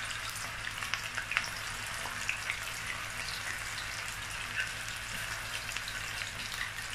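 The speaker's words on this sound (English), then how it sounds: "And now I'm going to add my tomato paste." Tomato paste hits hot oil in a frying pan for a tomato fried sauce, giving an even, quiet sizzle with scattered small pops and no talking.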